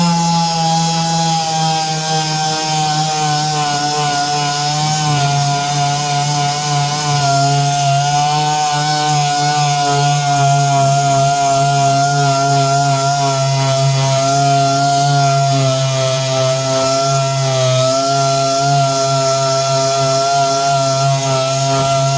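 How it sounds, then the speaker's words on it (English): A power sander grinds steadily against sapele wood filled with Starbond glue, a loud, sustained whining drone with a steady pitched hum that holds without pause, with no voices. "And now, just going to sand it down."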